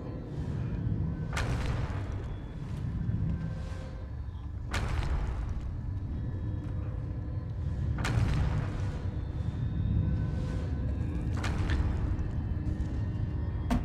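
Loud explosions in the video game Elder Scrolls Online: about four heavy booming blasts at irregular intervals, each with a sharp onset, over a constant rumbling bed of game noise.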